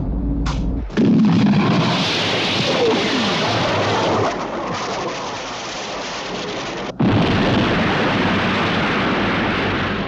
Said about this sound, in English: Missile guidance electronics have been affected by the explosion.